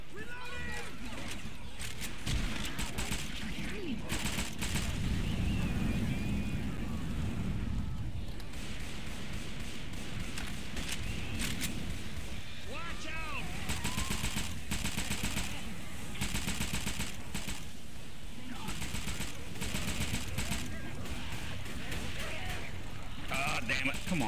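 Rapid automatic gunfire and scattered shots from Left 4 Dead 2 play continuously and loudly through a chaotic firefight, with game effects and voices under and between the bursts.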